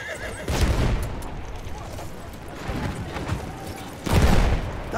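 A horse neighs loudly in a Tsaritsyn battle map of a war video game, two bursts of whinnying mixed with gunfire and rumbling combat noise, close by and dominant.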